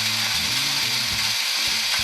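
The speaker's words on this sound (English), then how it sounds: "we basically need to get in there and remove our 3 tom legs, as well as the mounting brackets for them" Ratchet wrench clicking as it unfastens legs and mounting brackets from a floor tom drum, a quick series of close mechanical ratcheting strokes with no talk.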